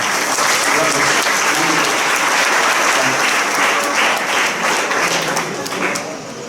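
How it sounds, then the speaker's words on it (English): Sustained applause from an audience at a World Intellectual Property Day event, honouring a student and his father; dense, steady clapping from many hands with no speech over it for the full length. "A round of applause for him and for his father."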